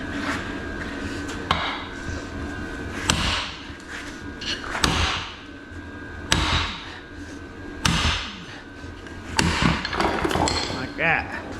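Copper being cut and ripped apart by repeated hammer blows: loud, sharp metallic strikes spaced a second or two apart over steady background noise, with someone talking in between.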